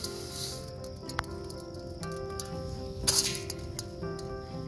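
A glass of uncooked rice goes into a pot in a village kitchen, making a soft, faint patter of grains with a few sharp clicks and a louder rattling burst near the middle.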